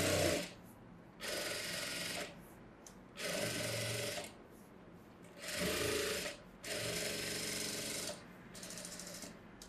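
A sewing machine runs edge stitching along a blouse in six short bursts of steady whirring, each separated by brief pauses, close and fairly quiet, with no voices.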